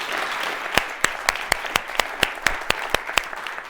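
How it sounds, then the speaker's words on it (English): Audience applause at a Harvard Extension keynote, a steady wash of many hands with one nearby clapper landing sharp, evenly spaced claps over it at a regular beat. "Please give yourself a big round of applause."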